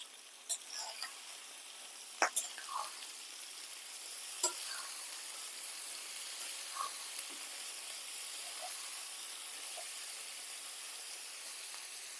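Onions and raw potato pieces fry in a pan for aloo kurma, a faint, steady sizzle with a few soft clicks and pops from stirring scattered over it, and no talking.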